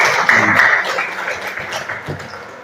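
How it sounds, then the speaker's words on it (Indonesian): A classroom of students applauds a classmate with brief, moderately loud clapping that thins out after a second, with voices mixed in. "tepuk tangan untuk temannya"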